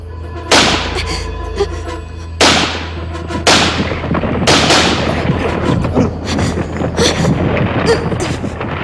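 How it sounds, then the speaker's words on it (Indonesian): Gunshots in an Indonesian TV drama scene, several loud sharp blasts spaced about a second apart with echoing tails, followed by a busier stretch of overlapping noise and commotion. "Siapa suruh kamu menembak?"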